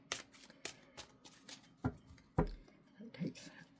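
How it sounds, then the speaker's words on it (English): Soft riffling and slapping of large tarot cards being shuffled in a few uneven bursts, close and fairly quiet, with faint rustling between. "These big cards are hard for me to shuffle."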